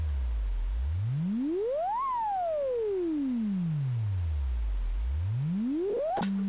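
A quiet, clean tone from a loosely tuned modular synth oscillator, its pitch pushed directly by a triangle LFO, glides steadily up and down in two long sweeps, with a short click and a brief steady note at the end.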